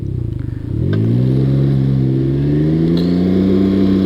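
A Can-Am Ryker three-wheeled motorcycle engine revs hard from a stop, its pitch rising steadily into a loud, sustained acceleration heard up close and alone.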